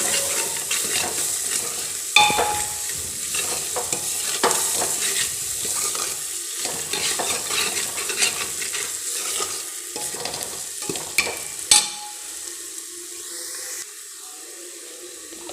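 Kashmiri chili, garam masala and other spices fry in a pan while being stirred, giving a continuous close sizzle with scraping and a few sharp knocks of the utensil.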